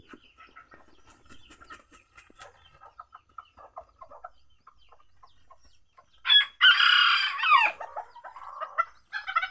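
Bantam chickens, including a black hen with newly hatched chicks, give soft scattered clucks and peeps, then a loud near rooster crow bursts in midway before quieter calls resume.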